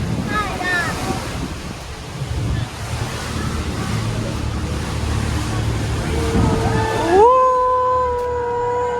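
Waves wash against a Thames river cruise boat in London, a broad rushing surf mixed with wind buffeting the microphone. Engine drone sits underneath, and a rising tonal whine appears near the end.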